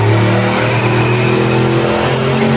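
A car engine roars under steady load during a dyno run, a loud, continuous, close drone with a strong low hum that holds its pitch for the whole stretch.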